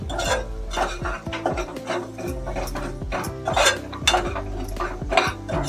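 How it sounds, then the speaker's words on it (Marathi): Malvani masala stirred and sautéed in a pan for a chole-batata curry, with continuous scraping and clinking of a spoon against the pan and steady clatter close by, no talking. "1 चमचा थोडासा घातला, तो पण आता चांगला परतून घेते मी."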